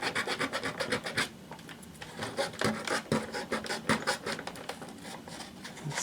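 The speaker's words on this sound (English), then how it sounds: "And I'm going to take some sandpaper." Sandpaper rubbed by hand over a small part being cleaned up, giving steady rasping back-and-forth strokes at close range with no talk over them.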